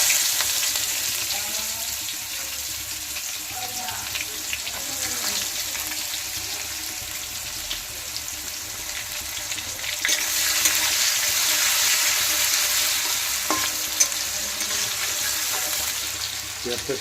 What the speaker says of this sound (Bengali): পেঁয়াজটা ভেজে নেবো একটু